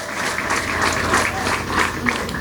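A church congregation applauds in dense, steady clapping, with raised voices and brief high cries swelling through the sound.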